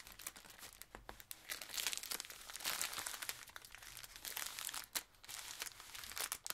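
Printable antique paper from a pack crinkled and handled up close, a steady run of crisp crackling and rustling with a few sharper crunches, continuous and fairly soft, with no talk.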